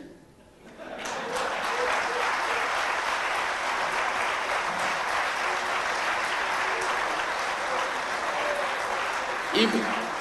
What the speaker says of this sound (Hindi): बाकी की ताली तो गुलाब जी के लिए बजाई थे